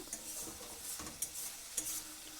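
Spice masala being stirred and fried in a pan, a soft continuous sizzle broken by a few sharp spatula scrapes against the metal, fairly quiet and without voices.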